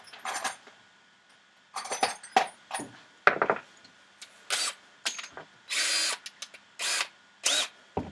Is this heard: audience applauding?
no